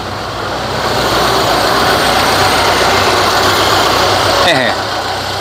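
Car engine idling steadily at about 900 to 1,000 RPM after an idle-problem repair, a continuous low rumble filling the whole clip with a brief higher tonal squeal near the end.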